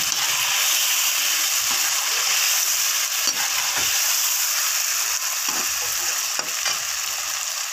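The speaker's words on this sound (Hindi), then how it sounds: "जो दही हमने तैयार किया था वो शामिल करेंगे और इसको 3 से 4 मिनट अब हम भून लेंगे।" Potatoes sizzle and fry in a yogurt masala, a loud steady crackle over several seconds with occasional scrapes and knocks of stirring, heard up close with no talking.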